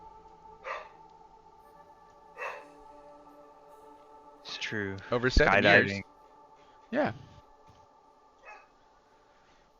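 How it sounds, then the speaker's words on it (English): A pet dog barks in short sharp bursts at intervals indoors, a few yips scattered between louder barks, while people talk nearby over part of it. "What is my dog barking at?"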